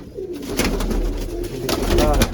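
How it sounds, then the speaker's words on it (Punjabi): Pigeons coo in low, throaty rolling calls close by, repeating over a soft rustle, with a bit of background murmur. "ਸਾਰੀਆਂ ਕਬੂਤਰੀਆਂ ਵਿੱਚ ਚਾਰ ਕਬੂਤਰ ਨੇ"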